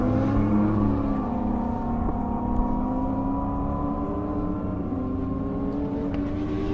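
A Hayabusa-powered drag racing vehicle runs at speed on a half-mile airport airstrip, its engine holding a steady, high-pitched droning whine throughout with harmonics sliding slowly, loud and continuous without a break.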